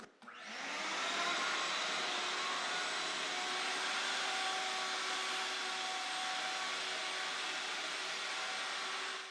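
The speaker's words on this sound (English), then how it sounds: "The process of cleaning between the cracks with the vacuum" A vacuum cleaner runs steadily and loudly while cleaning the cracks between oak floor planks, its even whine starting up at once and holding constant throughout without talk.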